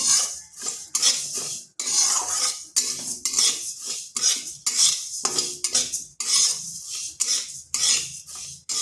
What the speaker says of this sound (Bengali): মুগ ডালটাকে হালকা ভেজে নেব যাতে পুড়ে না যায়